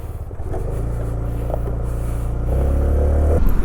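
A TVS Jupiter 125 scooter rides along with a steady low engine drone that swells slightly louder toward the end, close and continuous with no talk.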